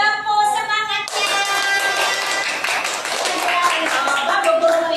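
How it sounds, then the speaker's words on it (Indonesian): A group of kindergarten children claps rapidly and enthusiastically after a brief moment of background sound, with the applause filling the classroom at close range. "Oke, beri tepuk semangatnya."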